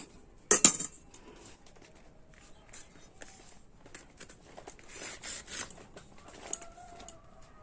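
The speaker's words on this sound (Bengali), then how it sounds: "সব আম এইভাবেই কেটে নিচ্ছি" A knife cuts through raw green mango being sliced into pieces for a sweet-sour mango leather, with one sharp close knock near the start followed by quiet, scattered clicks and soft scrapes.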